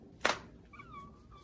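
Cat meowing indoors after a sharp thump, a soft rising and falling meow followed by a second shorter one, close and fairly quiet.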